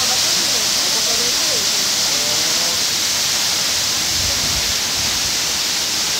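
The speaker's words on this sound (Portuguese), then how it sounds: "Bela cachoeira." The Cachoeirão do Anhangabaú waterfall in Paranapiacaba roars as a steady, loud, unbroken rush of falling water, with faint voices buried beneath.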